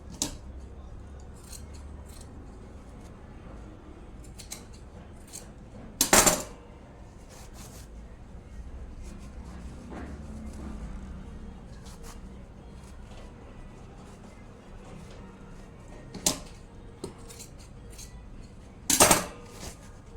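Scissors cutting cloth for sewing a pair of trousers, two sharp close snips heard over quiet background noise, with long pauses between them.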